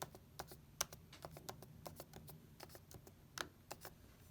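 Keys on a 2019 MacBook Pro keyboard are tapped in a quick, uneven run of light clicks while an admin name and password are entered, close and fairly quiet, with a few sharper strokes and no talking.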